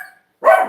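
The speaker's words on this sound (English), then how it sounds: "This dog, it just makes me jump every time, because he always barks." A single dog gives one loud, close bark that erupts suddenly after a brief stretch of near silence.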